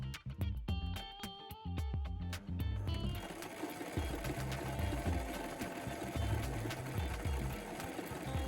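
A sewing machine stitches in bursts: a few separate mechanical thumps at first, then a fast, continuous run of needle strokes, close and clear with no talking.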